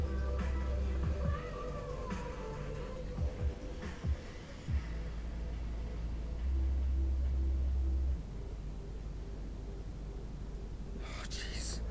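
A house cat meows in a few short, thin calls near the start, soft and close, followed by low rumbling handling noise and a quiet background hum.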